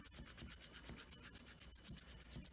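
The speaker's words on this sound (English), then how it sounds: "Keep sanding, keep sanding." Rhythmic hand sanding of a key blank for an Abus 83/45 padlock: quick, even back-and-forth rasping strokes, close and quiet, repeating steadily about four times a second.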